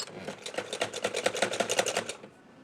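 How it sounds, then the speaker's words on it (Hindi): Sewing machine stitching a baby girl's summer frock, a rapid, evenly pulsed mechanical clatter close by that runs steadily and then stops abruptly near the end, leaving near silence. "थोड़ा सा मशीन को रोककर निडल आपने अंदर रखनी है"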